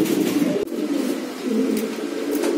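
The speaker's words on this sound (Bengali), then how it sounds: "বিশাল বড় একটা কবুতর।" Giribaz pigeons, high-flyer birds kept in a loft collection, coo in low, soft, continuous murmuring calls close by, with no talking.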